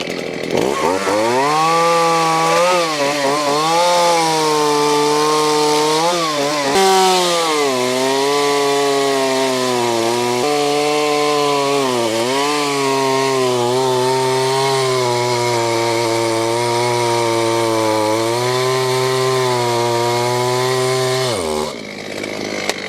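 A retro Husqvarna 40 chainsaw cuts wood, its engine roaring loud and close without a break, the pitch sagging briefly as the chain bites and climbing again as it clears the cut.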